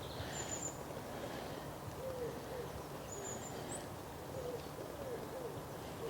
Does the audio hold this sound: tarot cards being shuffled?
no